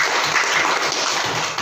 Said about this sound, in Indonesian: tepuk tangan dulu untuk Ricky